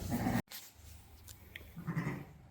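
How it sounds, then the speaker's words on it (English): Ewes and lambs in a pen, with a couple of close bleats at the start and near the end and quieter rustling between them, no talking. "Most of the lambs are laying together in their groups, and the moms have found them"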